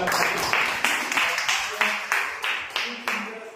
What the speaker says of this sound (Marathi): तर राजेंद्र सरांसाठी खरंच जोरदार टाळ्या